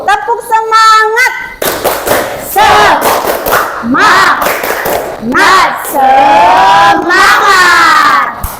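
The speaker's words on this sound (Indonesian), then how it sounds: "supaya rileks kita tepuk semangat lagi boleh ya?" An Indonesian classroom of students performs a rhythmic 'tepuk semangat' clapping chant, loud and close, with bursts of group voices chanting in unison between patterned claps.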